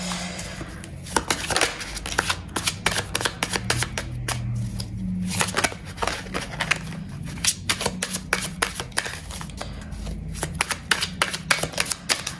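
Tarot deck being shuffled by hand, a continuous stream of rapid papery riffles and card flicks, close and steady for the whole stretch, with no talking.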